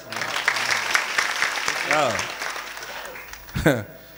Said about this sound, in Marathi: बस टाळ्या वाजवा एकदा.